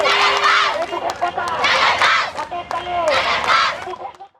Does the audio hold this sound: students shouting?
yes